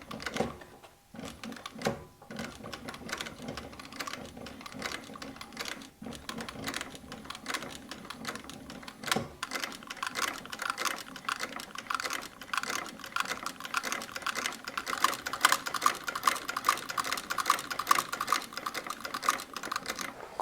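Sewing machine running fine thread through the leather of a decorative braided slip-on shoe, rapid steady clicking stitches that build in loudness, with brief pauses in between and no voices.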